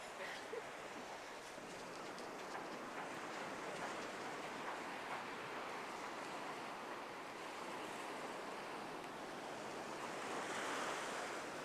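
Steady roar of ocean surf with waves washing continuously, wind buffeting the microphone throughout, no voices.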